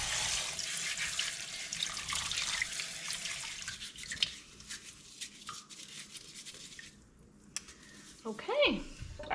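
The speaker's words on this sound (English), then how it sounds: "This is the second rinse, but I've scrubbed the potatoes this go round." Tap water runs and splashes steadily over scrubbed potatoes being rinsed in a sink, a continuous close wash that thins out midway, with brief clatter and handling noises near the end.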